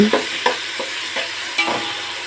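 Vegetables with ginger-garlic and coriander paste frying in a pan for vegetable rice, a steady soft sizzle punctuated by several light stirring scrapes and taps.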